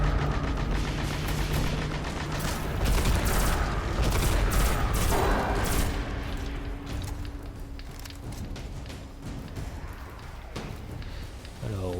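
Gunfire in the Destiny beta on PS4, rapid bursts and booming shots from the game layered over music and effects, loud and dense throughout.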